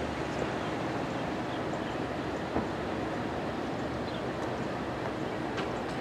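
A long CSX coal train rumbles steadily past in Brunswick, Maryland, a dense continuous roar of wheels on rails with faint clanks, loud and unbroken throughout.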